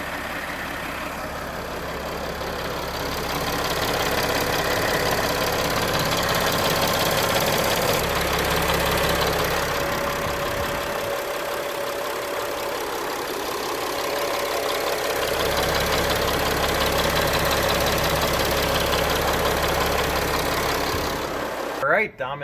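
A 2013 Mercedes Sprinter van engine idles steadily up close for a long stretch with a droning hum, while people talk nearby at times.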